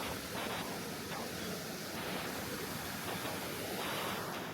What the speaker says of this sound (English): the name of this river is called Prime Time River